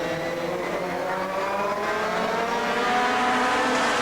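A Fortech Mini race car at the 1989 SCCA Runoffs races under load with a sustained, loud engine drone that builds slightly toward the end, with faint tire noise mixed in and no talk.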